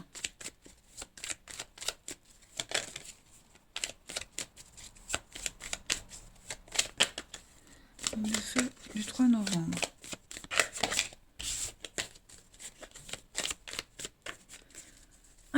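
Tarot cards are shuffled and drawn in close, rapid riffling bursts and soft slaps, with a voice talking over parts of it.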